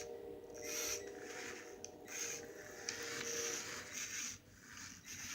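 A motorized Lego Caterham Seven 620 R RC car drives with a faint, continuous whirring electric motor hum that rises and dips in quick bursts, heard close and quiet with no talk.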